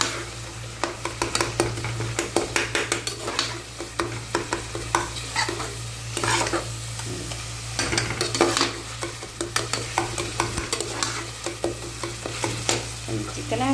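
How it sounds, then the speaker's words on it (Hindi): Chicken fries in masala in a pan, loudly sizzling while a spoon stirs in quick repeated scrapes and knocks against the metal, close and continuous with a low steady hum beneath. "चलो भूने चिकन और मसाले को।"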